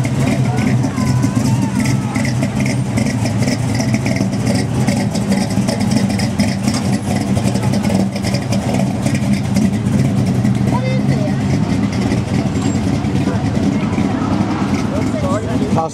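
Engine rumbling and revving among cars at a hot rod show at the Fall Rod Run in Pigeon Forge, Tennessee, a steady loud low drone throughout with crowd chatter and voices over it.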